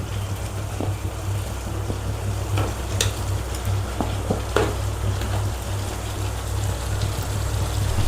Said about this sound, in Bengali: এরপরেই এর মধ্যে আমি দিয়ে দেব বড় বড় টুকরো করে কাটা টমেটো।